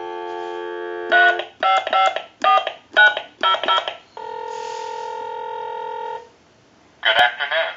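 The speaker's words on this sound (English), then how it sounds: "Go ahead and give you some dial tone." Hollywood desk telephone converted and repaired, a string of short touch-tone dialing beeps followed by a sustained tone, then a pause and another brief burst of tones.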